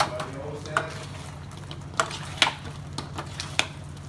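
Carioca being stirred in sugar in a pan makes a soft, steady scraping and sizzling, with a few sharp clinks of the utensil against the pan. A person talks quietly.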